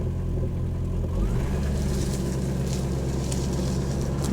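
A Ford AU XR8 Falcon with its engine running steadily, a deep low rumble that shifts slightly as the car is put in gear and begins to move, continuous and close.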